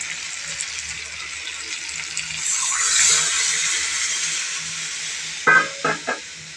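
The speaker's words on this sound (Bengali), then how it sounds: "এবার আমি এর মধ্যে জল দিয়ে দেবো।" Water pours into a hot pan of chicken curry with a rising, hissing gush that swells and then eases into a sizzling wash, followed by a few short clanks near the end.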